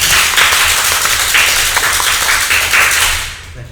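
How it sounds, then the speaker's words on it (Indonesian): An audience at an Indonesian corporate anti-corruption event gives a short burst of steady applause, with many hands clapping together, before it fades out at the end. "Tepuk tangan semuanya."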